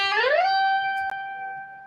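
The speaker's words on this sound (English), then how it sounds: "playing a note and sliding our finger up and down the guitar neck" A single guitar note slides smoothly upward along the string, then settles and rings clearly, with a small click partway through.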